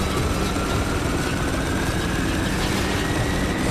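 Helicopter in the video game Spec Ops: The Line: a loud, steady engine and rotor roar fills the whole stretch without a break, with no talk over it.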